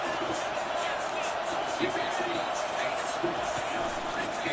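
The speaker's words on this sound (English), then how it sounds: "This crowd trying to make life miserable for this offense." Steady stadium crowd roar from a College Football 25 online franchise game between Ohio State and Northwestern, a continuous broad wash of fans with faint scattered shouts, sitting under a commentator's voice throughout.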